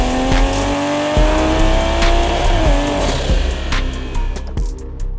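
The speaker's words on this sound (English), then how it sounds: "This is a long-term review of the Mk5 Toyota Supra." A Toyota Supra Mk5 sports car driving, its engine droning steadily with rising and falling pitch as it shifts, loud and close with sharp transient clicks toward the end, no talking.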